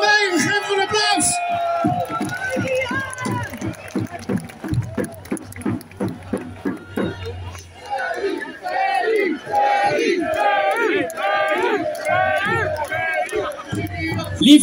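A large crowd at a farmers' protest rally in Zuiderpark, The Hague, cheers and shouts loudly with bursts of rhythmic chanting, while an amplified voice speaks over the noise.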